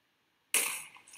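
A sudden explosion in the Minecraft video game, one sharp, loud burst out of silence that decays over about half a second.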